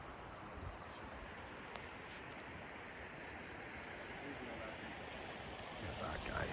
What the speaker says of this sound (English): That waterfall is absolutely